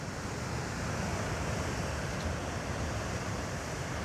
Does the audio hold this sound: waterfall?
yes